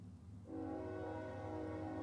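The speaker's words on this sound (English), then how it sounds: "I'm gonna let the train pass." A train passes nearby, its steady rumble and sustained horn tones rising abruptly and holding loud to the end, with no talk.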